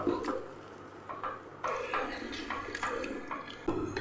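Rice batter being stirred with thin coconut milk poured in for soft appam, giving soft sloshing and scraping clinks of a spoon against the vessel, with faint drips between strokes in a quiet kitchen.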